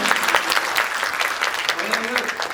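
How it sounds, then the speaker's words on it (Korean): An audience at the COEX stage greeting for the film Jjanggu applauds, with two actors present. The clapping is dense and continuous, and speech and a few voices run over it. "박수!"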